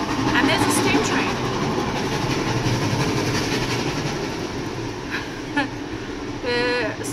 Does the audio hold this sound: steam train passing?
yes